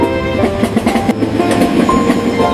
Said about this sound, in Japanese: Fireflies dance as the train quietly passes.